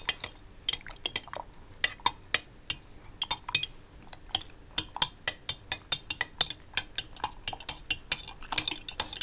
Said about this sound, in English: And then we get our spoon. Give it a bit of a stir.